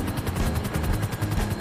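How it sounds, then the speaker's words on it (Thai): Rapid automatic gunfire in GTA Online aimed at a helicopter, loud close bursts in a fast regular rhythm, with a helicopter rotor droning underneath. "ลงยิงฮอนะครับยิงฮอนะ"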